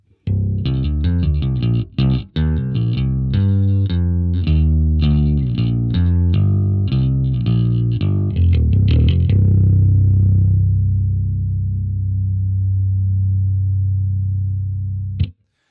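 Bass guitar through a Line 6 Helix overdrive plays a loud, choppy run of distorted notes, then a long sustained low note rings out and fades before a brief final hit.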